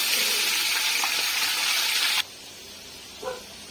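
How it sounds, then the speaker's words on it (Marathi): Chicken tempering with whole spices and onion paste sizzles over a wood-fired stove for biryani, a loud steady hiss that cuts off abruptly, leaving a faint background with one small clatter. "चिकनची फोडणी देऊया खडे मसाला टाकून घेतल्यात कांद्याची पेस्ट केलेली ती टाकली"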